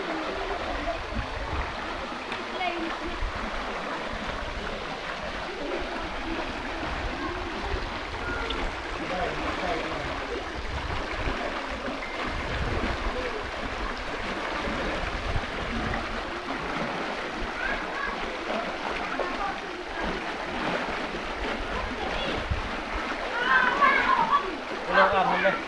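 People bathing in a stream, with steady running water and splashes throughout under frequent talk, including children's voices, and a louder splash near the end.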